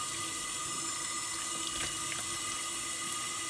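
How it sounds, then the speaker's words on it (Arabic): Cold tap water runs steadily over a blue crab in a sink, a constant close hiss and splash with no talk. "غادي نغسلوه مزيان لانه نغسلوه بالماء بارد"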